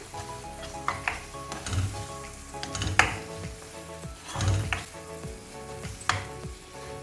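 Potato masala with coriander leaves being stirred in a pan, giving a soft frying sizzle broken by a few scraping strokes and light metal clinks, with background music and no voices.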